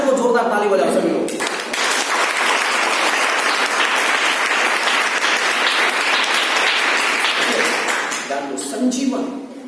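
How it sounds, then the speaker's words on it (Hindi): A church revival congregation claps loudly and steadily for several seconds, a dense wash of applause that swells and then fades out. "परमेश्वर को जोरदार ताली बजाओ सभी लोग"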